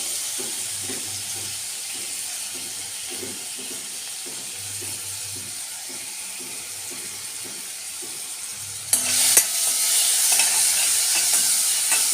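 Finely chopped onion and tomatoes frying with cumin for tomato bhaji, a soft continuous sizzle and hiss with faint stirring, growing louder and brighter toward the end.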